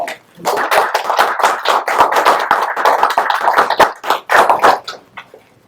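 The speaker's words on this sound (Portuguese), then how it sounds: "salve de palmas" A small audience at an evening business club meeting claps, a loud burst of irregular hand claps that swells and then thins out over about five seconds.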